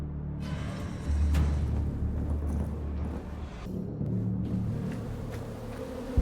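Bees buzzing in the space game Deliver Us Mars: a steady, low insect drone holding across the whole stretch at moderate loudness, with no voices over it.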